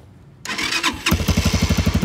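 A Bashan CR250 carbureted motorcycle engine cranks briefly, then catches and settles into a close, loud, rhythmic idle.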